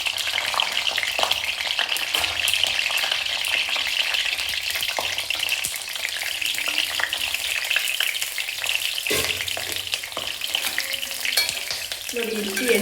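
Stuffed capsicum frying in hot oil in a pan: a loud, steady crackling sizzle throughout, with occasional scraping and stirring sounds, and no talking.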